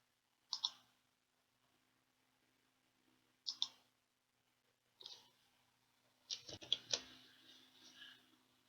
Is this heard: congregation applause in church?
no